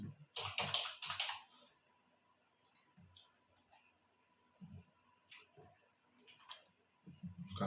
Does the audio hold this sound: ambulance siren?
no